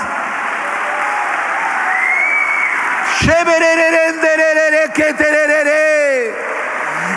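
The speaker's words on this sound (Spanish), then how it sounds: "Vamos, dele palmas, dele palmas, dele palmas." A congregation at a Spanish-language church service claps loudly and continuously, and a voice calls out or sings over the applause partway through.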